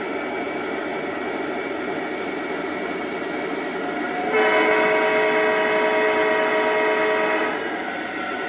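A model train locomotive bought from a hobby shop runs on a layout with a steady rumbling hum, and its horn sounds loud and sustained partway through, holding for about three seconds before cutting off.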